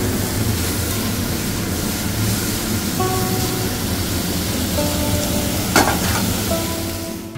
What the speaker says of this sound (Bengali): তো এখানে সবজিগুলো ভাজা হচ্ছে এক এক করে।